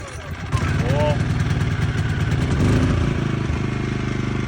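A 2.2 kW petrol inverter generator starts up and runs with a steady, close mechanical hum and light clatter, with a voice briefly heard over it near the start.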